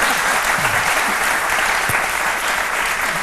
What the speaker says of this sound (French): Merci beaucoup, on l'applaudit très fort.